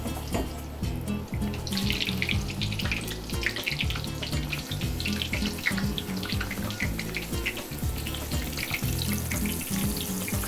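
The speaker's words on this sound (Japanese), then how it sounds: "焦がしバターを作っていきます。" Butter sizzles and crackles steadily in a pot while being browned, a continuous frying hiss with constant small pops and no voices.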